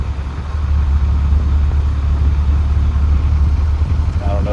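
A 1989 Toyota Celica GT-S engine idles with its A/C compressor engaged after an R-12 to R-134a retrofit, a loud, steady low rumble close by with a faint voice over it.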